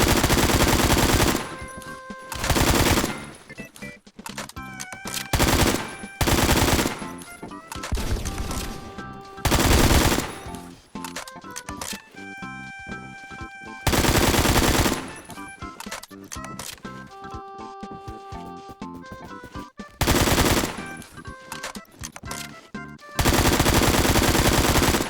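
AKS-74U Krinkov fire in the video game Phantom Forces: loud, close bursts of rapid automatic gunfire in repeated strings, broken by short pauses, with no talk.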